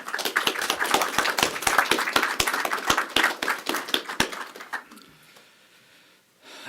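Applause welcoming Representative Rob Bishop at a Natural Resources Committee event, a scattered, uneven patter of individual claps from a modest audience that fades out after about four seconds into near silence.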